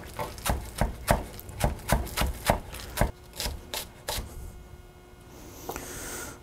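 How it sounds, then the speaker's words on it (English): A knife chops green onions on a board in a quick, even rhythm of about a dozen crisp, close strokes, then slows to a few scraping cuts and fades into quiet, with no voices. "Here's my green onions chopped"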